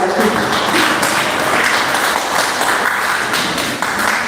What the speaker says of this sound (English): Please let us give a thunderous clap for that.